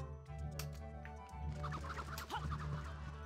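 Chickens in the Horsez: Ranch Rescue video game cluck and squawk in a busy, close flurry over a steady low hum, several birds calling in quick overlapping bursts.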